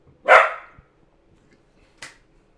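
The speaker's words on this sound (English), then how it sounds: "This dog just will not quit barking." A single sharp dog bark close by, then a quieter second bark about a second and a half later, with silence around them.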